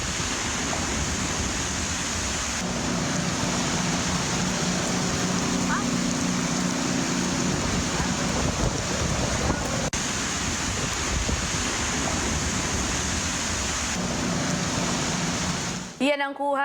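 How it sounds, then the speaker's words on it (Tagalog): Strong wind and heavy rain from Typhoon Tisoy lashing Naga, Camarines Sur before dawn, a constant loud broadband rush with no break, ending in a brief burst of sound. "Yan ang kuha habang binabayo ng malakas na hangin at ulan dulot ng bagyong Tisoy ang Naga, Camarines Sur kaninang madaling araw."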